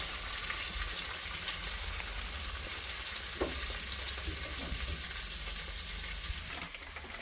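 Garlic and two bay leaves fry in a pan in a village kitchen in Bangladesh, giving a steady, close hiss of sizzling oil with faint stirring scrapes throughout and no talking.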